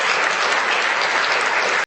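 A burst of dense applause-like clapping, loud and close, sustained for under two seconds before cutting off abruptly.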